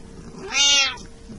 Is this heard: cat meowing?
yes